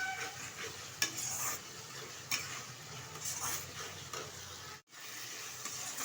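Spice masala of Kashmiri chili and garam masala being stirred in a pan for a burnt-chili chicken dish, a steady soft sizzle with scraping strokes and a few louder knocks of the spoon, one brief dropout near the end.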